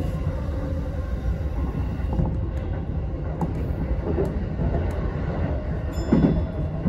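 A Keihin-Tohoku Line commuter train rolls along the tracks near Shin-Koyasu and Tsurumi with a continuous rumble and occasional wheel clatter, steady and fairly close throughout.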